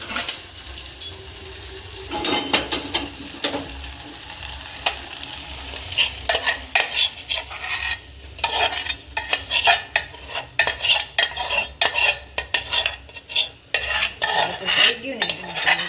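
A tadka of red chutney and spices sizzles in hot ghee for restaurant-style dal fry, with loud, steady frying broken by frequent clinks and scrapes of a stirring spoon against the pan. Sharper metallic taps come toward the end.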